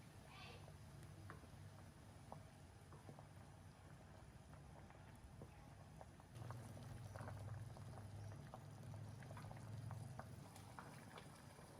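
Water bubbling at a steady rolling boil in a pot, soft continuous gurgling and popping heard up close and quiet.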